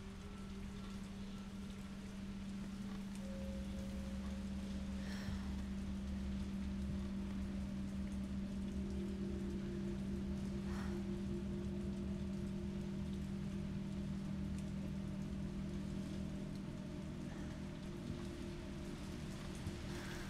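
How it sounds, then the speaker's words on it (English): Heavy rain pouring steadily outside in a Resident Evil 3 game scene, a dense continuous hiss with a low droning hum underneath and a couple of faint distant rumbles, no voices. "it's raining hard as shit out there"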